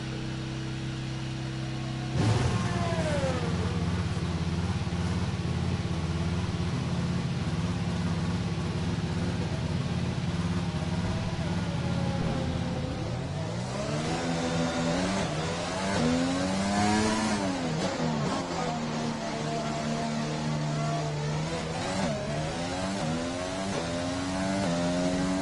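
An F1 2020 race car in the video game fires up with a sudden roar, idles with a buzzing hum, then revs hard in rising and falling sweeps, loud and close with no voices.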